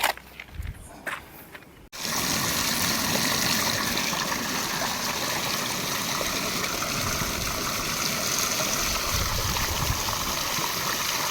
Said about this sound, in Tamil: தண்ணி வந்து இந்த பைப் வழியாக வெளியே வரும்.